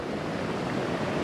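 Ocean swell rolling onto an Indian Ocean shore, heard as a steady, loud, broadband wash of surf with no distinct breaks, close and continuous throughout with no voices.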